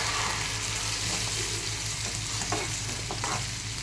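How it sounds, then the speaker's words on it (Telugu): Onions fry in hot oil, a dense, constant sizzle close by with a few faint stirring scrapes and no talk. "ఆయిల్ వేడయ్యాక ఇందులోకి ఆనియన్స్ వేసి"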